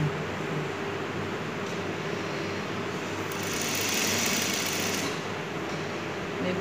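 Sewing machine stitching a salwar kameez, a steady continuous mechanical hum and rapid needle chatter throughout, slightly louder in the middle.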